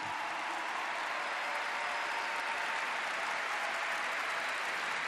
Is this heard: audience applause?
yes